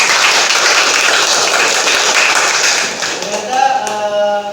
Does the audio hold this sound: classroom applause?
yes